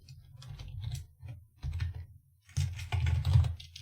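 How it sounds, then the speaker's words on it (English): Typing on a computer keyboard during a Unity game engine tutorial, with a few short bursts of soft, close key clicks separated by brief pauses and no speech. "if I can type"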